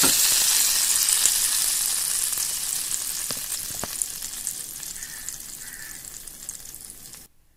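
Mustard seeds, urad dal and a little cumin frying in hot oil as a tempering for coconut chutney, a steady bright sizzle with a few sharp pops, close and loud, fading gradually before cutting off.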